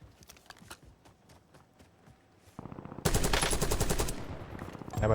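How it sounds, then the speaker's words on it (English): Automatic gunfire in the video game Warzone, a few spaced distant shots followed by loud, sustained close bursts of full-auto fire. "Damn, I probably shouldn't have shot right there."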